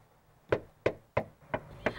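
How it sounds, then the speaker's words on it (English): Five firm knocks on a door in Amarillo, spaced at a slow, even rhythm, each a sharp close rap that decays quickly, alone against a quiet background. "I knocked on doors throughout Amarillo"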